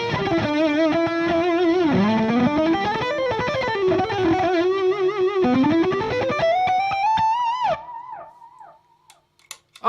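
An electric guitar played through an MXR Carbon Copy analog delay pedal, with sustained, bending distorted notes and warbling repeats that trail off into quiet, trailing echoes near the end.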